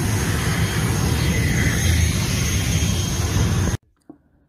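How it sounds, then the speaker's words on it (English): A loud, steady aircraft engine roar at the airport in Kugaaruk, Nunavut, in the Arctic, runs for nearly four seconds, then cuts off abruptly into near silence. "So this right here is the airport in Kugaru."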